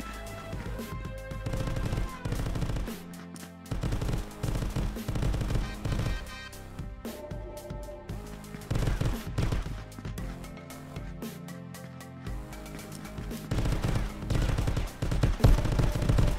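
Rapid automatic gunfire and scattered single shots in a GoldenEye 007 VR mod firefight, loud and dense throughout with bursts trading back and forth over layered game music and effects.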